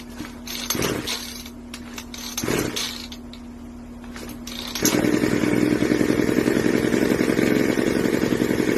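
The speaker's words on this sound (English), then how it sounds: "We're gonna run an engine with this." A small engine running on fuel made from trash sputters and clatters with metallic knocks, then catches and runs steadily with a loud, continuous buzzing roar.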